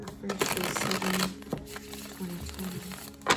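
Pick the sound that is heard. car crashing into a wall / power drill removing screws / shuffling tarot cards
shuffling tarot cards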